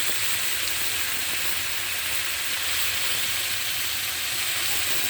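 Pointed gourd is added to hot oil after frying silver carp and fries with a loud, continuous, hissing sizzle that stays dense and unbroken from start to finish.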